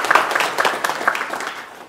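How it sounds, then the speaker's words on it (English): A short burst of applause from a church congregation after a choir cantata, scattered claps fading out over a couple of seconds. "Let's give them all a round of applause."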